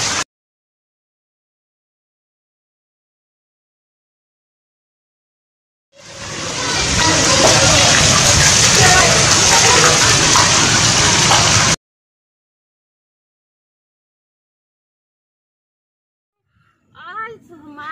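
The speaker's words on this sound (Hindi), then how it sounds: "आज हमारे पास हो गई बारिश।" Heavy rain pours in Lahore in a loud, dense, steady hiss that starts abruptly and cuts off after about six seconds, bracketed by silence, with a brief voice speaking at the end.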